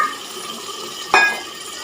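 About a cup of water is poured into keema frying in a pan, a brief splash over a steady background sizzle.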